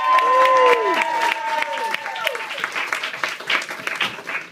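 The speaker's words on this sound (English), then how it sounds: "So if we have a round of applause for Louise and the bridesmaids." Wedding guests applaud the bride and her bridesmaids, with dense clapping that stays steady and fairly loud and fades slightly toward the end. Laughter and excited voices come through the applause.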